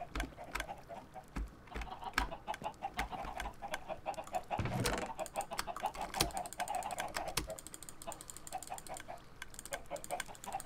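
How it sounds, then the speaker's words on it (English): Minecraft-style video game chickens cluck intermittently in the background, mostly masked by steady, close computer keyboard typing and clicking throughout. "Take care of the chickens. Always gotta take care of chickens."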